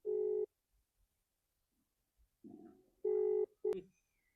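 A phone ringback tone sounds in two short bursts several seconds apart, with faint shuffling and a brief murmur between, as an outgoing call goes unanswered.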